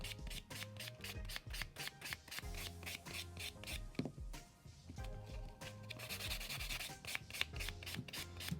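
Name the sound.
buffing a glitter nail enhancement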